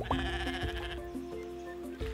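Goat bleating in the farming game Roots of Pacha, a short nasal bleat at the start over steady looping game music, fairly close and clear.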